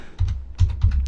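Keys clacking in short bursts on a computer keyboard, with a handful of distinct clusters of keystrokes close up and no talking.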